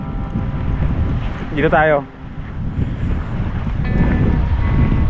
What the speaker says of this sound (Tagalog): Pero ang lakas talaga ng hangin